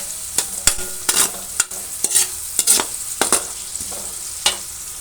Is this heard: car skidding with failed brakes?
no